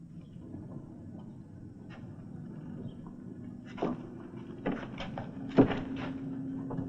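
A door being opened in an Old West setting, with low background rumble and a few wooden creaks and clunks building to a sharper knock near the end.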